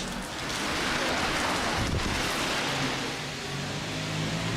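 Steady rain falls in Torquay town centre, a continuous broadband hiss of drops on surfaces that holds at an even level throughout, with no voices.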